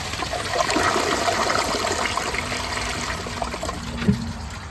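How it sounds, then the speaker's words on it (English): A one-piece matte black Clovis Goods dual flush toilet flushes with a loud rushing swirl of water, then settles into trickling and refilling, heard up close with no talking. "I like the flush on this, it's really nice."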